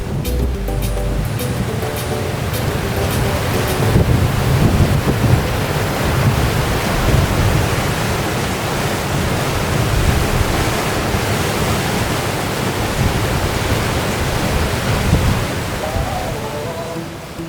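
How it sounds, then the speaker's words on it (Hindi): Deep, fast mountain river rushing steadily along the Sonmarg to Kargil road, a loud continuous roar of churning water heard up close, unbroken for the whole stretch with no talking. "पर पानी बहुत ही गहरा है, आप आवाज़ से सुन सकते हैं।"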